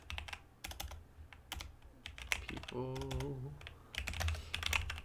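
Rapid clicks of computer keyboard typing, close and intermittent, with a person speaking briefly partway through.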